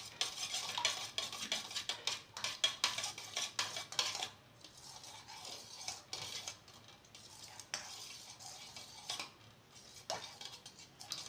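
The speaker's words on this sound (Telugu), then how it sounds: "ఇట్లా పూర్తిగా కలపాలండి, మిక్స్ అయ్యేలాగా మొత్తం కలుపుకోవాలండి." A hair oil mixture stirred in a bowl, with quick scraping, clinking strokes of a spoon against the sides in a busy burst at first, then slower, sparser stirring, quiet and close with no voices.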